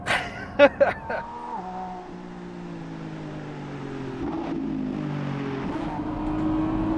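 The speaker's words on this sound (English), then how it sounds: "Oh yeah, feel those tires grip. That's first gear." A 2024 Lamborghini Revuelto V12 hybrid accelerates hard in first gear, heard from inside the car. A few sharp thumps come first, then a loud, steady engine note climbs and holds.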